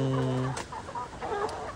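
Backyard chickens clucking nearby in a flock that has been struck by a contagious respiratory illness, with a steady harmonic call at first followed by several short, scattered clucks.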